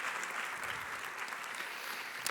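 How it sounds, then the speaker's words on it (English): Audience applause at a university's opening of the academic year, a steady wash of clapping that holds evenly throughout, fairly quiet and distant, with no talk over it. "I give her a little bit of an applause"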